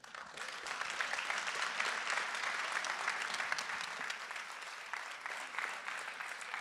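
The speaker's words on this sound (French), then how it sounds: "applaudir toutes ces équipes absolument formidables" An audience applauds at an awards ceremony for prize-winning community engagement teams, a steady, dense clapping that holds at an even level throughout with no voices over it.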